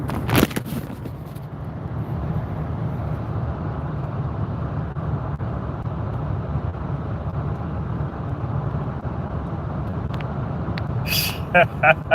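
Steady road and engine rumble of cars passing while driving along a road, a continuous low drone throughout with brief louder bumps near the start and end.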